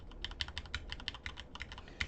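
Computer keyboard arrow keys are pressed again and again, often while Ctrl is held, making a quick run of light, crisp plastic clicks in an uneven rhythm that sounds close and distinct, with no voices.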